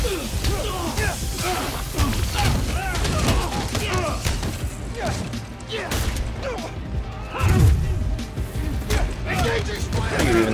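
Rapid bursts of gunfire in the Spider-Man: Miles Morales video game on PS5, sharp cracks and impacts mixed with mechanical clanks and thuds, with in-game voices shouting over the action.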